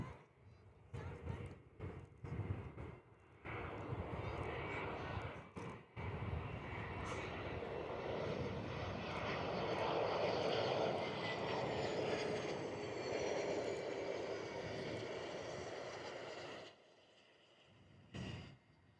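A QantasLink airliner coming in to land at Perth Airport, heard from an outdoor viewing deck as a steady, fairly distant jet roar that swells and holds for several seconds before fading, with a few handling knocks at the start and end.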